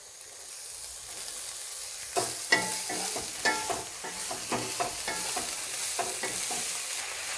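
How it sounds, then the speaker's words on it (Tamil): Half a kilo of finely chopped cabbage sizzles in a pan for a hotel-style poriyal while a spoon stirs it, giving a steady frying hiss with a series of scraping and tossing strokes, close up and without speech. "இதை நல்லா இப்போ கிளறி விடுறவங்க"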